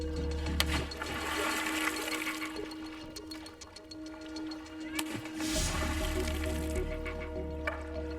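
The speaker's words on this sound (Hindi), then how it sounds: "पानी की सतह पर 1 या 2 बार इस तरह मारने से मछलियां गहराई में जाकर जाल में फंस जाती हैं।" A fisherman in a canoe strikes the water surface to drive fish down into a net. A continuous rushing, splashing wash of water sounds close by, with a steady hum beneath it and no talking.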